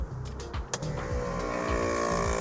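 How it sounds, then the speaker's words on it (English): The onboard air compressor of a 2022 Ford Bronco WildTrak kicking on to pressurize the truck's air system, a loud, close, steady mechanical whine and rapid pulsing hum running throughout, with no talk. "The compressor is going to kick on and only operate for a few moments because it's just pressurizing the system within the truck"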